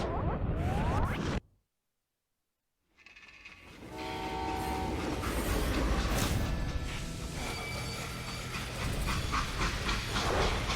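A freight train in the game Call of Juarez: Gunslinger rumbles along with clanking cars and a drawn-out horn, briefly cutting to silence before the rolling noise and horn tones return, steady and fairly loud.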